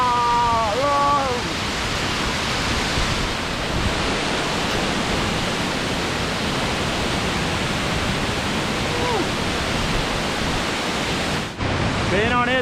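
Seventh waterfall of the Bomuru chain, a steady broadband roar of falling water filling the scene at close range, with a voice speaking briefly at the start and again near the end.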